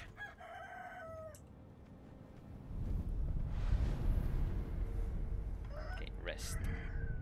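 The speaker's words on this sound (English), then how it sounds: "Rooster." A rooster crows in a video game played with inverted controls, the call rising briefly at the start and again near the end over a loud, rumbling game soundscape, with some talk mixed in.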